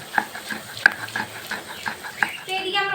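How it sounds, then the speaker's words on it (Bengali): Masala sizzles and fries in a pan, with a spoon scraping and stirring it in irregular strokes, close and moderately loud, and a faint sharper sizzle rises near the end. "মশলা কষানো হয়ে গেছে"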